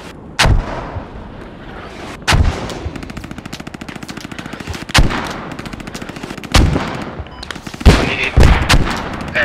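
Mortar rounds fire in the Squad military shooter game, a few heavy booms spaced a couple of seconds apart over continuous rapid machine-gun rattle, loud and close with no voices.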